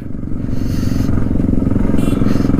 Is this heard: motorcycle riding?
yes